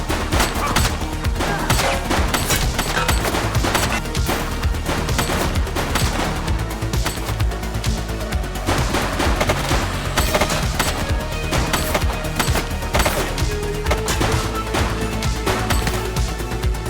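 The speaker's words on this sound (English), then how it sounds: "He's shooting!" Loud, sustained gunfire from a shooter in the police game The Precinct: dense overlapping volleys and rapid bursts that run without a break for the whole stretch, with no talk.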